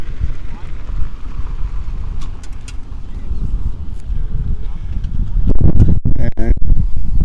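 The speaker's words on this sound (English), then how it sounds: "It is windy." Wind buffeting a camera microphone outdoors at a golf and yacht club, a constant low rumble that swells louder toward the end, with voices heard faintly through it.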